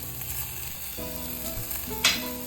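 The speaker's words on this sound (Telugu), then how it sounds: "వేసేసుకొని బాగా టాస్ చేసుకోండి. కొంచెం ఒక 2-3 నిమిషాలు ఫ్రై కావాలండి దీంట్లో" Corn kernels frying in a pan with garlic, ginger and salt for ragi soup, a steady moderate sizzle with a brief tonal ring and one sharp scrape near the end, close and without speech.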